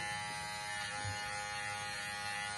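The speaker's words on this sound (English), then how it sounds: "if you need to shape it, same thing, grab your trimmer" Electric hair trimmer buzzing steadily and close during at-home grooming, a constant bright motorized drone with only slight load changes, quiet overall with no speech.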